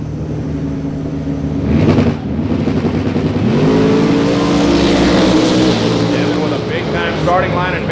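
A supercharged Camaro drag car launches and roars at full throttle on a Pro275 small-tire drag strip, loud and rising in pitch, with an announcer talking over it throughout.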